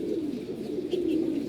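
Pet pigeons, including a silver hen, cooing softly in a loft, a low steady coo with a faint rise near the end, no talk.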